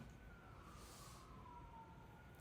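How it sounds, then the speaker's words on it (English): Faint distant siren wailing under a low rumble of background noise, steady and far away. "a lot of sirens. I don't know if you can hear them."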